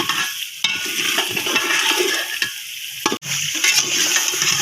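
Meat sizzles and fries in a pot for chicken biryani, a steady bright hiss broken by occasional clatter of stirring, close and loud.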